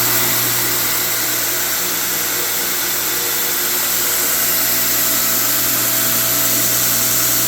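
A DIY Star belt grinder with a square tube tracking arm runs at a steady speed, giving a loud continuous motor whine and belt hum with no talking.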